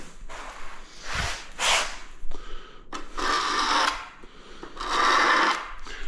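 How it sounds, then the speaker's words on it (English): A scraper grinds tile adhesive off a floor during retiling, in several rough, rasping strokes of varying length, fairly close and loud, with short pauses between them. "You always scrape the glue away from your edge."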